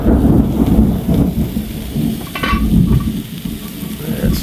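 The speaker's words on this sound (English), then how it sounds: "As you can hear, it's threatening to rain on us up here in Arizona high country." Steady rain hisses close by in Arizona high country with low rolling thunder rumbling throughout, a brighter crackle of rain bursting briefly midway.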